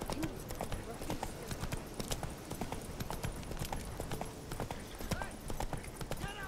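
Roach, a horse in The Witcher 3 video game, trots with rapid, steady clip-clopping hooves that run the whole time beneath ongoing speech.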